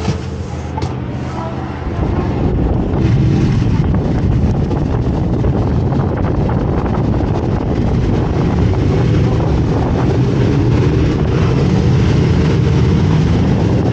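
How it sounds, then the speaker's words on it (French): Strong wind buffets the microphone in a loud, continuous roar that kicks in after a brief quieter start and persists throughout, outdoors in rain at the Le Vigeant racing circuit. "Là, il y a du vent en plus là."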